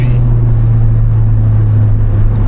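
Honda Civic Type R EP3 engine droning steadily inside the car with a strong low hum, held loud and close throughout with no clear blip between gears.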